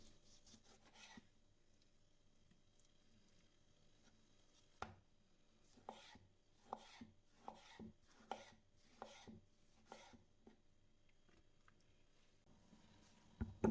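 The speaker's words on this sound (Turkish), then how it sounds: "Domateslerimi de yine uzun bir şekilde doğrayarak onları da kabıma alacağım." A knife chops tomatoes into long, thick slices on a cutting board, a regular series of crisp, close thuds with short pauses, quiet between strokes.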